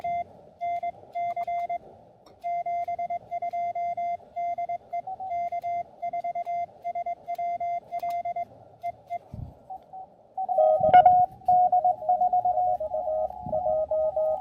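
Morse code call signs come in on an amateur radio as a steady single-pitch sidetone keyed in rapid dots and dashes, later joined by a second, louder and slightly shifted signal with static crackles.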